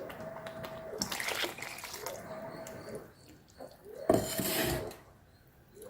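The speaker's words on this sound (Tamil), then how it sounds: "மிக்சியை கழுவி கொஞ்சம் தண்ணி ஊற்றிக்கலாம்" Water splashes and sloshes in bursts close by as a blender jar is washed, with a pour and some knocking of the container between quieter stretches.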